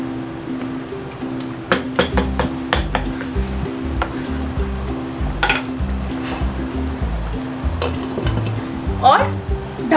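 Hyderabadi mutton tahari being stirred in a pot, with scraping and clinking of a utensil against the metal and a soft sizzle underneath, moderately close, with someone speaking intermittently over it.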